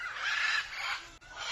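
A peacock in Colombia gives a loud, harsh, drawn-out call that sounds close and is heard on its own.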